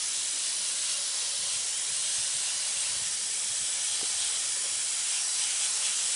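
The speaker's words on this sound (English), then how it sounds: "I've got my nifty little wand here, and I've got it set on the mist setting because you don't want it too heavy" A garden watering wand on its mist setting sprays a fine, steady hiss of water to dampen seed-starting trays, continuous and fairly close throughout with no pauses.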